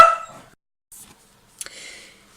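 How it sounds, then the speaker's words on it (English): A few sharp dog barks ring out close by in a quiet room, separated by short pauses, with a softer yip or whine trailing after. "sorry, my dogs were shouting"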